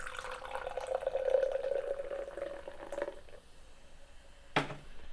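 Blue raspberry soda pours from a can into a glass with a steady, close gurgling stream for about three seconds, then quieter fizzing and a single sharp tap near the end.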